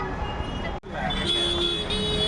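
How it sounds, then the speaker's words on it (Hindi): Car horns toot repeatedly amid busy road traffic noise, with voices talking over the din of congested vehicles. "कितना हॉर्न बजा रखा है"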